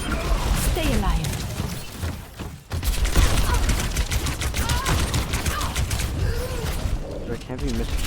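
Rapid gunfire bursts and weapon impacts from the video game Overwatch 2, dense and loud throughout, with a player's voice talking over the action.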